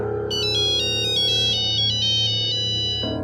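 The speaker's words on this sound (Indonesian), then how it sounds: "Tiba-tiba ada telepon masuk ke HP itu dari pria yang selama ini telah memenjarakannya." A mobile phone rings with an incoming call, a bright repeating electronic melody of short tonal phrases over a low steady hum, from the film Oldboy (2003); it plays alone and cuts off near the end.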